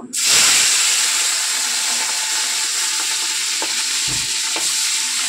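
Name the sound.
frying in oil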